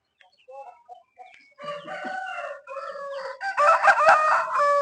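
A native country rooster crows loudly and close by on a farm, one long drawn-out call, with hens clucking softly around it.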